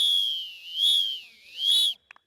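A referee's whistle during a football match, a loud shrill trill that sweeps up and down across three long blasts, followed by a couple of faint short clicks.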